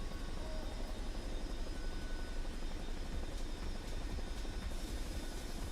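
A Chinook helicopter in the game Microsoft Flight Simulator drones with a continuous, even rotor and engine roar at moderate loudness, with no talk over it.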